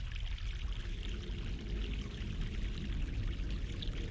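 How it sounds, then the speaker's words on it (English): Fresh mountain stream water flowing in a fantasy adventure game, a steady full rushing and splashing that stays even and continuous throughout, with no voices. "Stream? Fresh mountain water."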